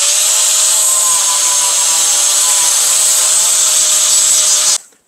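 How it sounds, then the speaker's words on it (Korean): Speed-controlled grinder sanding the surface of a hypalon inflatable boat laid over soft padding, a loud steady whirring grind held for several seconds before cutting off abruptly at the end. "샌딩 한번 해볼게요."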